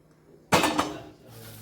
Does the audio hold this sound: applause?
no